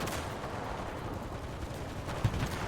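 An M3 grease gun submachine gun fires in the video game Enlisted as a dense, continuous burst of loud automatic shots, with no talk over it.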